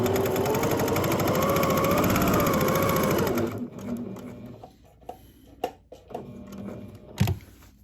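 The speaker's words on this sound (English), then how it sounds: "And then back over to where we started sewing." A sewing machine stitching a welt pocket runs in a loud, steady rapid whir for about three seconds, then stops, leaving quieter clicks, taps and fabric handling.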